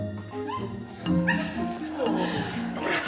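Several dogs whimper, yip and bark excitedly at close range as they are reunited with their owner at an airport animal reception, with overlapping high cries and people talking over them.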